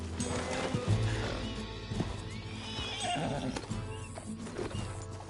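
Horses whinny and snort with clip-clopping hooves close by, several animal calls rising over a low rumbling background at moderate volume, in the video game Red Dead Redemption 2.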